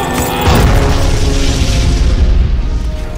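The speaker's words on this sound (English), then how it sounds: "Bayban the Butcher has survived bigger explosions than that." A loud, deep boom erupts in a Blake 7 audio drama sound effect, a heavy rumbling blast that swells early and then rolls on for a few seconds with no voices over it.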